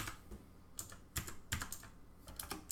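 Fingers type on a computer keyboard in irregular bursts of close, light clicking keystrokes, with no talk.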